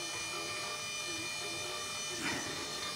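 A homemade star roller turns on an electric motor at low speed, running in reverse. It gives a faint, steady whirring hum that holds even throughout.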